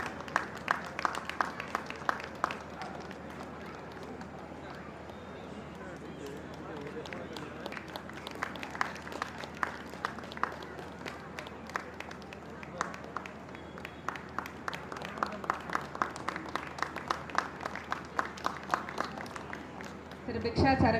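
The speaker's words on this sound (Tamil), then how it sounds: "அனைவரின் பலத்த கரகோஷங்களுடன் பிக்ஷாத் அரவிந்த் அவர்கள்." Scattered applause from the audience at a business expo in a Tamil-language venue as a guest is welcomed on stage; sparse, uneven claps continue at moderate volume, with voices talking over them.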